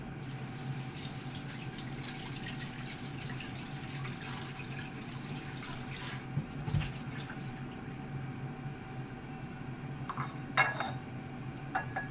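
Water runs steadily from a tap while something is washed, a constant wash with faint clinks of dishes and cutlery and a few sharper splashes near the end.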